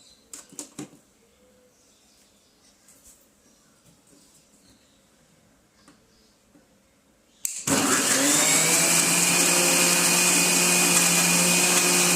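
An electric blender grinds almonds with milk, kicking in abruptly after a quiet stretch of faint handling clicks, then running as a loud, steady, close-up high-pitched whir.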